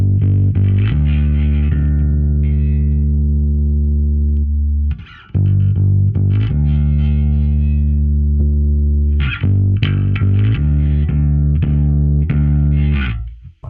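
Electric bass played through a Darkglass Alpha Omega overdrive pedal with the overdrive turned all the way down, giving loud, sustained low notes with a short gap partway through.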